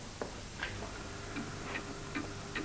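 A clock ticking steadily with evenly spaced light ticks, close and clear against a quiet room hum, with no voices.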